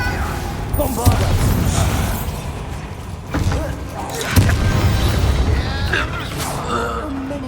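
A Bombardo blasting spell in the video game Hogwarts Legacy: several booming explosions burst through dense combat noise, with a voice talking and gasping over the fight.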